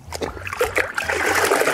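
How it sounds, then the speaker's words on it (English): Water trickles and splashes into a bucket as a Big Red Sponge is squeezed, giving a close, wet patter that swells into a steadier stream toward the end. "Just want to give it one squeeze, and so it's on the point of dripping."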